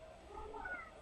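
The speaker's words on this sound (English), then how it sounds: "My cat wants attention." A pet cat meows a few times indoors, faint and close in a quiet room with a low background hum and no one talking.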